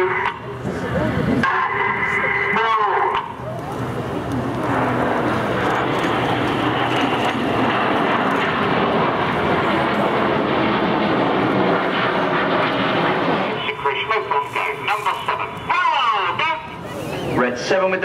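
Red Arrows jets performing a shuttle roll in a flying display at Farnborough 2012, a loud sustained roar that builds and holds before easing. Commentary plays over the engine noise.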